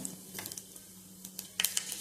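Cumin and fenugreek seeds tempering in very hot oil for a toor dal with bottle gourd, crackling in scattered sharp pops over a quiet sizzle, growing busier toward the end.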